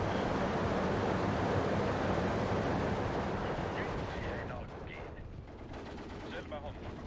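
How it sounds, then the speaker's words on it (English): Steady gunfire and battle noise from Steel Division 2, with Cavalry troops firing submachine guns in a wartime campaign in Karelia. The dense, loud din holds through the first half, then thins to scattered crackles, with a voice talking over it. "they take the submachine gun shots from the Cavalry"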